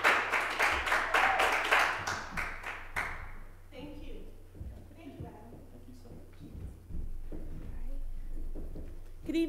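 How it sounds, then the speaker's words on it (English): Audience applause for a speaker at an evening speaking event, a brief burst of clapping in the opening three seconds that fades out, followed by quieter room noise and soft talk. "Can everybody give a big round of applause for Erwynnda?"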